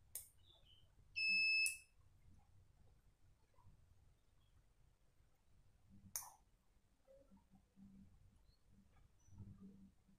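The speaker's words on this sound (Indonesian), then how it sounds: "alarm akan bunyi sekali dan lampu sen akan nyala keempat-empatnya seperti ini" A Honda CB150R motorcycle alarm, wired with a Honda Sonic neutral switch, gives a single short electronic beep as the ignition is turned off, followed by faint clicks in a quiet setting.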